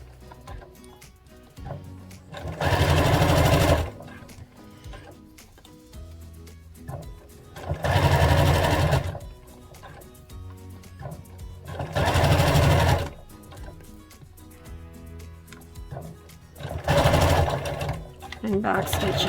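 Sewing machine stitching overall pants fabric in four loud bursts of a few seconds each, separated by quieter pauses while the fabric is repositioned.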